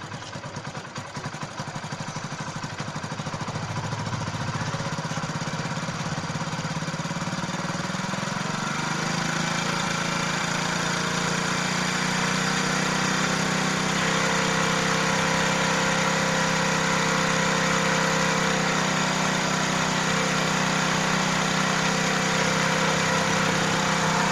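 A Hero 100cc motorcycle engine runs steadily while its carburetor fuel mixture screw is adjusted, a loud, close, clattering idle whose rpm gradually rises and settles higher over time.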